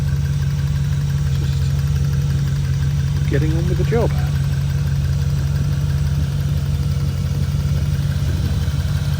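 Land Rover Defender 90 from 1998, a 50th anniversary edition with a fuel-injected 4-litre V8 and automatic gearbox, rumbles steadily at idle throughout, with someone talking briefly over the low, constant engine drone.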